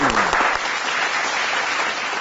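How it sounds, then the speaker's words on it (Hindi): Studio audience applause on a reality television show as two guests arrive, a close, dense round of clapping that holds steady before easing slightly toward the end. "तालियां हो गई, एक पे"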